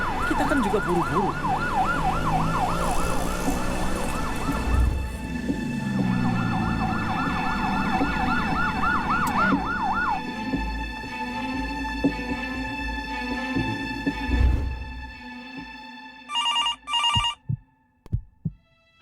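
An ambulance siren wails in fast rising and falling cycles over traffic for about ten seconds, then cuts off, leaving low thumps and a few short electronic ringing bursts near the end.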